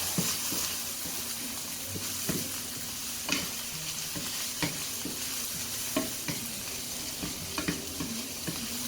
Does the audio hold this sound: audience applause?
no